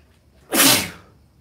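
One sharp, forceful human sneeze bursts out close by and fades quickly into quiet room tone.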